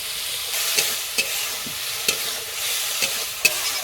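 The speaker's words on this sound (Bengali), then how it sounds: "টমেটো ভাজা হয়ে গেছে এবার আমি দিয়ে দেবো রসুন কুচি আদা বাটা পেঁয়াজ কুচি" Tomato, garlic, ginger paste, onion and chilli sizzle steadily in a hot pan while a spatula stirs and scrapes in sharp, regular strokes, close and without any talk.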